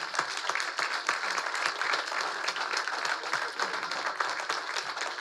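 A church congregation applauds, a dense, fairly quiet patter of many hands clapping at once, steady and sustained from a short distance, with no voices standing out.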